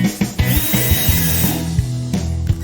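A screw is driven into a board to fix the head of a furniture hinge, giving a close, steady whirring drive with a rising tonal whine and scraping, and a brief break near the end.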